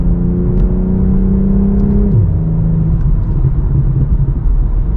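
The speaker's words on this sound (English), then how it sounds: "Great little pops out of the exhaust between shifts." A 2023 BMW M240 xDrive in Brooklyn Grey accelerates hard, its engine droning loud and steady before dropping in pitch at an upshift, then pulling on again with a rumbling exhaust heard close up.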